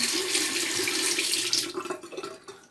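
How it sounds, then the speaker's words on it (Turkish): Water from a bathroom tap runs steadily into a sink, then breaks into irregular splashes as hands wet a face toward the end. "Şimdi çok hafif bir ıslatayım yüzümü"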